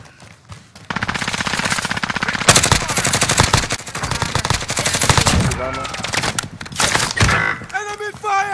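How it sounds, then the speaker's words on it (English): Video game firefight with sustained rapid machine-gun bursts and scattered gunshots, loud and dense throughout, with in-game voices calling out between the volleys. "Enemy fire!"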